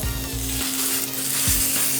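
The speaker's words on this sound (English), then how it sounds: "Now it's time to put on our smash burger." A smash burger sizzles steadily in hot olive oil, a close, even frying hiss with a few soft scraping bumps underneath.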